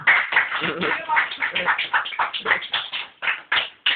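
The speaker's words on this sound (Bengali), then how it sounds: "অসিতের জন্য একটা জোরে হাততালি হোক" A small group gives loud clapping for Ashit at a friends' gathering, with uneven, overlapping claps of shifting rhythm close to the microphone for about four seconds, and voices mixed in beneath.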